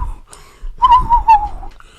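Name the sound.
person imitating whistling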